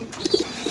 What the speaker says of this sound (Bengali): বড় সাইজের কবুতর দর্শক